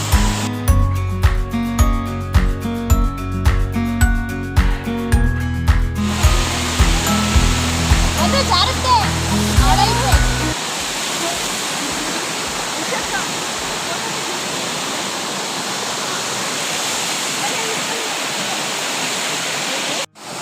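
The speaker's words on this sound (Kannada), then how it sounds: "ಫಾಲ್ಸಿಗೆ ಬಂದಿದ್ದೀವಿ ಗೈಸ್, ಅಬ್ಬೆ ಫಾಲ್ಸ್" Abbey Falls waterfall roaring as a steady, loud broadband rush that fills the second half, following music at the start.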